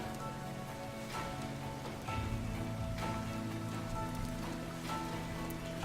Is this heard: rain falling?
yes